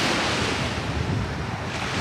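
Ocean surf at Matto seaside park in Ishikawa, Japan, at sunset roars as a continuous wash, with gusts of wind buffeting the microphone.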